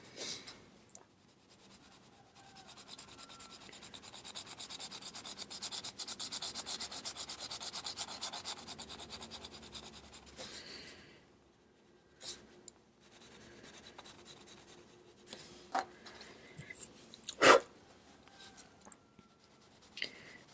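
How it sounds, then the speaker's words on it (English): Cheap colored pencils drawing on paper, a soft scratchy rubbing that runs steadily for several seconds and then turns into short, separate strokes with one sharper tap near the end, all close and faint. "I'm using the cheap pencils on this one."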